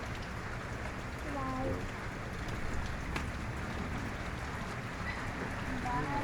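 Steady rain falls outdoors during a flood, a constant soft hiss of drops with faint background sounds and no clear voices.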